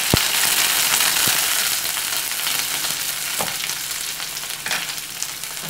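Mustard seeds, fenugreek, asafoetida, onion and curry leaves frying in hot oil for a tomato chutney tempering: a steady close sizzle with scattered sharp pops and crackles throughout.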